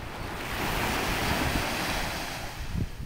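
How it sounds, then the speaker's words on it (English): Ocean waves wash steadily onto Caladesi Beach in a broad, continuous surf roar, mixed with wind buffeting the microphone and no voices. "They really do have waves here."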